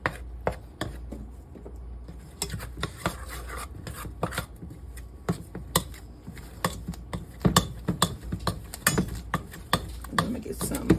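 Butter, vanilla extract and salt being stirred in a bowl, giving a steady run of close scraping and tapping clicks from the utensil against the bowl, continuing throughout at a busy irregular rhythm.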